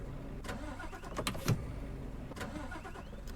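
A Scania R500 truck in Euro Truck Simulator 2 cranks and sputters without catching, a few brief starter bursts and engine coughs over a low rumbling background, with no talk.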